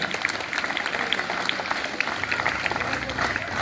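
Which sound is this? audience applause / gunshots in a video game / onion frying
audience applause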